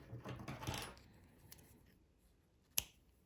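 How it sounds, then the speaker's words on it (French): Scissors snipping crochet yarn for a man's hat, quiet close sharp clicks: a couple of soft snips early on, then one crisp cut near the end, in an otherwise hushed room. "Et là, je vais couper mon fil."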